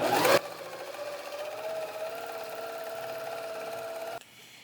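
A sewing machine stitches steadily while free-motion quilting a meander, a continuous close mechanical whir that starts after a brief noise and stops abruptly near the end.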